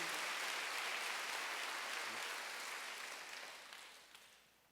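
A church congregation applauds during a Wednesday worship service, a broad, steady clapping that gradually fades out.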